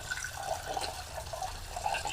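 Water splashes and trickles steadily into a cooking pot as it gets a quick rinse, a soft continuous wash with faint dripping and sloshing, close by and alone.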